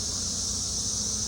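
Nurse bees swarm at a beehive after frames are shaken off in front of it, making a steady, close, even buzzing drone with no voices.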